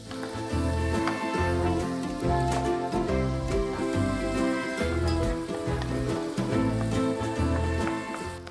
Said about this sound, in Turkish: Şimdi biraz da tavukları bu şekilde kavuracağım